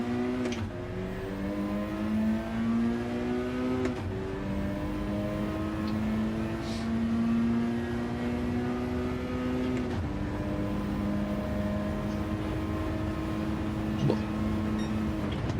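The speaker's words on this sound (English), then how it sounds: "I'm kind of expecting the car sound to be a bit loud tonight." Engine drone from a racing simulator car plays continuously, a steady whine that climbs in pitch through each gear and drops at shifts around every few seconds, moderately loud with no talking.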